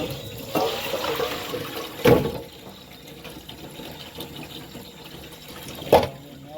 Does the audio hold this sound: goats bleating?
no